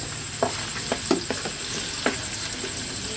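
Onions sizzling in a pan for chicken curry: a continuous bright hiss of frying with light scraping and tapping stirs scattered across a few seconds, close and fairly steady.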